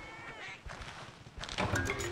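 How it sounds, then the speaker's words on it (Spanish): Thieving cat creatures in the video game Monster Hunter 4 Ultimate give a couple of short meows, one early and one louder toward the end, over game background sounds. "Estos gatitos roban objetos."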